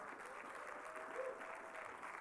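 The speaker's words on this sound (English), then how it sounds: "let's give our Dean's List students a round of applause" An audience at a university Honor Society induction and Dean's List ceremony applauds the Dean's List students, a steady, even patter of clapping from a crowd, fairly distant and continuous throughout.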